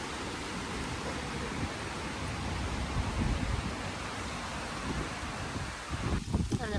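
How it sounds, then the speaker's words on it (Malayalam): Strong wind blows outdoors near a home in Germany, a steady broadband rush buffeting the microphone with low rumbling gusts, swelling slightly toward the end; no one speaks. "ഭയങ്കര കാറ്റ്."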